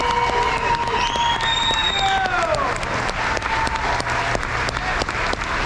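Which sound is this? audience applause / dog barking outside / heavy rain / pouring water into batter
audience applause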